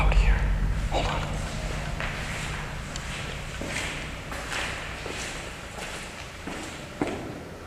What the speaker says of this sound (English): I'm hearing footsteps out here